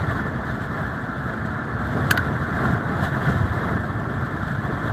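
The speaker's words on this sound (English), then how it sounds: "It's a windy day too." Steady broadband wind rush buffeting the microphone, a continuous low roar with a brief sharp click partway through and no voices.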